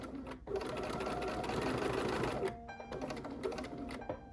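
A sewing machine stitching binding onto a pumpkin-shaped quilted trivet, running in a steady close whir, stopping briefly halfway and then starting again in short bursts.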